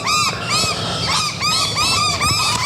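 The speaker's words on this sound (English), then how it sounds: "There's birds everywhere." Birds calling loudly outdoors in Queensland bushland, harsh repeated honking cries in several bursts, close and continuous over background noise.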